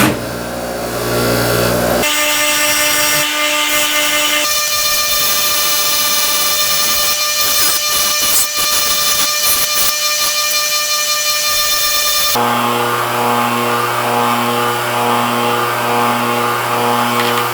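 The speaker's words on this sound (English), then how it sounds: "So I'm going to use the wire wheel here" A motor-driven wire wheel cleans brake wheel cylinder parts from a 1964 Chevy C10, a loud continuous whirring hum whose pitch and grit shift as the parts are pressed against it and eased off.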